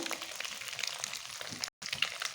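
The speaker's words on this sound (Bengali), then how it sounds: "লাল লাল করে ভেজে নেব।" Egg curry frying in a pan, a steady close crackling sizzle that runs throughout, broken by one brief moment of silence near the end before the sizzling resumes.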